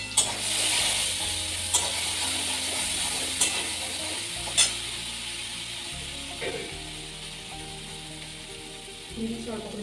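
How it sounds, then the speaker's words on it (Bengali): Soybean curry with chopped tomato and green chili sautés in a pan over low flame, a soft steady sizzle broken by a few sharp spoon scrapes and taps against the pan, with background music running underneath. "এবার লো ফ্লেমে একটু ভালো করে কষিয়ে নেব"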